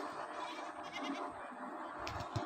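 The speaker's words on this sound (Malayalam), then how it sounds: "ഒരുപാട് ആടുകൾ വന്നിട്ടുണ്ട്." Goats at a livestock market, several animals bleating close by in short overlapping calls against a busy outdoor crowd hum.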